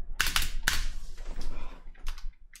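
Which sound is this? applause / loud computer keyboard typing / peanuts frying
loud computer keyboard typing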